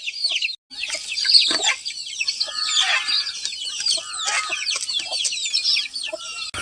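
Chickens cluck and chatter continuously close by while a hen is set to brood on eggs, a busy flurry of short clucks and squawks with no talking.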